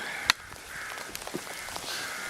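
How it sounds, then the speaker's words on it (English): Scattered harsh caws from crows at a distance, a few short calls spaced irregularly over a faint outdoor background. "It's just those wretched crows"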